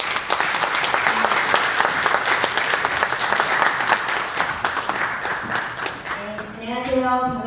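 Church presbytery assembly audience applauding to welcome a lecturer, a thick, lively burst of clapping from many hands that thins out near the end as a voice begins speaking.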